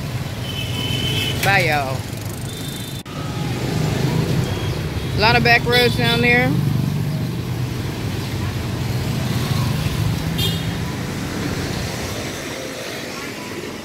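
Street traffic in Tay Ho, Hanoi, with a constant low rumble of passing vehicles and swells as motorbikes go by, heard while walking; people talk over it at times.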